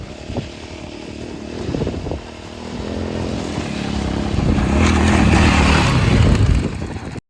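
Motorcycle ridden up a hill trail, its engine droning continuously and building louder toward the end, with wind and rough outdoor noise around it.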